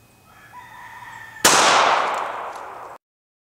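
A single loud, sharp gunshot from a .380 Inceptor pistol firing an ARX non-hollow-point defense round into ballistic gel, ringing out with a long decaying tail after a faint rooster-like crow.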